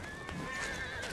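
Beric, Isildur's horse, gives a close, wavering whinny that holds steady for about a second over a dense background of other sound.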